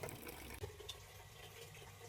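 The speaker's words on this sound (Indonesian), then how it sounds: "Jadi di sini kita isi dulu airnya." Water runs steadily into a large 20-kilo rice steamer pot, a continuous low rushing fill with no talk.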